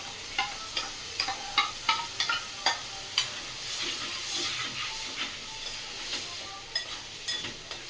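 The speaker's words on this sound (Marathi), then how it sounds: "आता ह्याच्यामध्ये हा वाटलेला पालक घालणार." Ground spinach tipped into a pan of frying potatoes with ginger-garlic paste, stirred with a spatula; a steady sizzle and hiss runs throughout, punctuated by repeated scraping clicks of the utensil against the pan.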